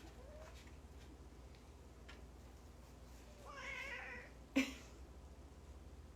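A cat meows once, drawn out and fairly close, followed by a sharp knock in an otherwise quiet room.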